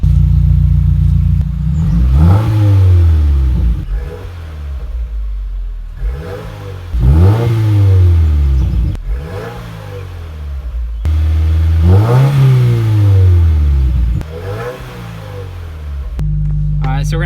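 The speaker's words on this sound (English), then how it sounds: "So let's rev it up some." A rebuilt 2017 Subaru WRX with a new exhaust revs repeatedly while warm, each blip rising sharply and falling back to a low idle, about six loud throaty pulls close by.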